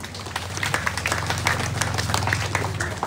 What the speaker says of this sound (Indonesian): Kita berikan aplaus untuk para pelopor.